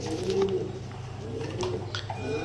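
Soft coos of red English magpie pigeons rise and fall against a steady low hum, with a few faint chirps and rustles around them.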